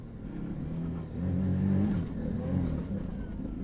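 A Can-Am Maverick R off-road vehicle accelerates through a corner, its engine note swelling and climbing in pitch as throttle comes on, then holding a loud, rising drone.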